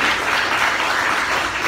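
A church audience breaks into dense, steady clapping and cheering, loud and close, filling the whole moment with no speech on top.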